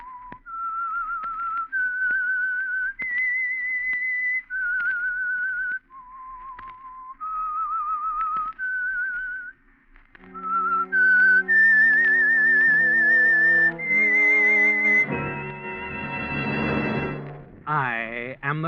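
A lone whistler carries a slow, clear melody note by note, then music joins in with sustained tones and a rising orchestral swell.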